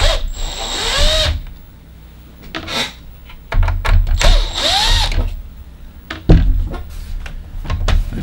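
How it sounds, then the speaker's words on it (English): Screws being backed out of the rear of a Pioneer LaserActive player with a power driver, several short whirring bursts with clicks and small mechanical clatter between them, close and fairly loud. "these two back screws right here possibly needing to come off to get the tray out"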